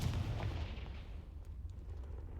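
A Confringo fire spell blasting in Hogwarts Legacy, a booming explosive burst that rolls out at the start and settles into a low rumbling decay, fairly quiet and without speech.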